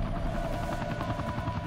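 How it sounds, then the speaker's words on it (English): A helicopter in Devil May Cry 2 thrums with a rapid, steady rotor chop over a low engine hum, sustained and fairly close for the whole moment, with no voices. "Oh, it's just a chopper"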